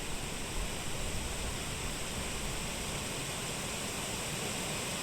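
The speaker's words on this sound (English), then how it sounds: "I'm seamlessly going to take you from wind to the sound of water" Flowing water on a bridge in Manor Park, Derbyshire, heard as a steady, broad rushing wash like distant surf, even and unbroken, captured binaurally.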